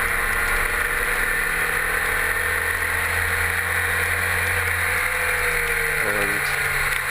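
A Formula Vee single-seater race car laps Brands Hatch in treacherous conditions, its engine droning loud and steady with a brief shift in pitch near the end.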